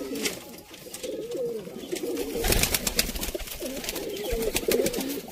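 Pigeons coo repeatedly at close range in soft, throaty phrases, accompanied by bursts of rustling and fluttering noise.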